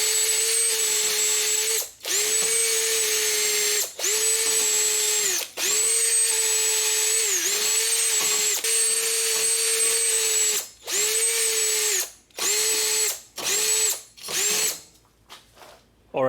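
A power drill with a cleaning attachment scours the front brake hub flange of a Subaru Forester, running in steady loud bursts of a few seconds each with brief pauses, then shorter choppy pulses near the end.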